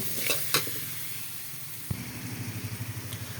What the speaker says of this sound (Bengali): এখন ভালোভাবে কষিয়ে নেব, তারপর এর মধ্যে মাংসটা দিয়ে দিব।